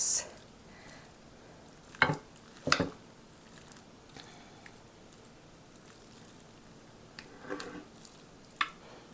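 A spoon stirs a thick kielbasa and linguini casserole mixture in a dish, giving a few soft squishing scrapes and two sharper clanks close by, with quiet pauses between strokes.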